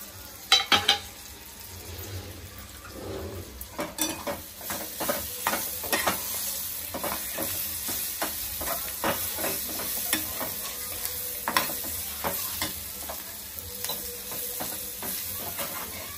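A besan bhaji mixture fries in a pan over a gas flame with a continuous soft sizzle, while a spoon stirs and scrapes against the metal in repeated clinks and taps, close up and without talking.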